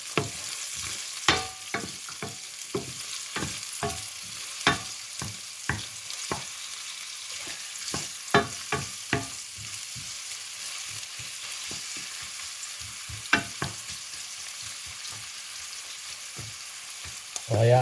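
Onions sauté with garlic and ginger in a pan for ginisang burong isda, a Filipino fermented fish dish, with quick irregular spatula scrapes and taps over a constant close sizzle.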